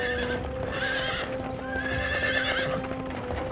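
Cartoon horse hooves clip-clopping in a steady rhythm alongside a whinny, moderately faint, with no speech.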